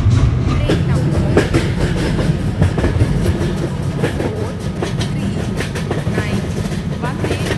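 A Vande Bharat Express in Indian Train Simulator rolls on steadily, with a loud low rumble and a regular clickety-clack of wheels on rail joints, while a voice is faintly heard under it.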